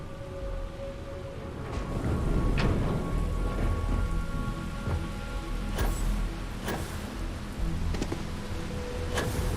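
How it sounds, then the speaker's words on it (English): Steady rain falls in the video game Starfield, a constant wash of drops with low thunder-like rumbles and a few sharp cracks, mixed with faint background game sounds. "would be nice if it would stop raining"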